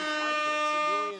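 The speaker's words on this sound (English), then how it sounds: "the producer is pressing just air horns" An air horn sound effect blares in one sustained, loud, harmonic-rich blast that fades slightly at the end, pressed by a show producer.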